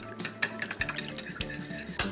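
A utensil clinks against a bowl while stirring ground cinnamon, ginger and nutmeg together, a run of quick light scraping taps in an irregular rhythm, close and fairly quiet.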